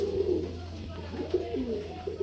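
A Lahori dun coloured female pigeon cooing close by, a few soft low warbling coos over a steady low background hum.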